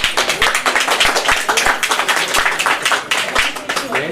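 An audience at a quilt-distribution event at an old-age home claps loudly and steadily throughout, with sharp individual hand claps standing out from the continuous applause.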